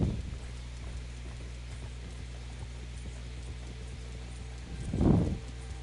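Horse hooves clip-clop steadily in the Red Dead video game on PlayStation 4, quiet and even, with a louder thudding burst near the end.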